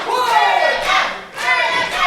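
Wrestling crowd at a championship match roars in loud surging waves of cheering and shouting to rally the champion, the noise rising and falling in swells with some hand clapping mixed in.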